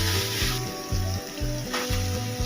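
Chicken pieces frying in sautéed ginger garlic paste for a Madurai-style chicken chukka, a steady close sizzle with recurring low clatter as the pan is worked, no talking.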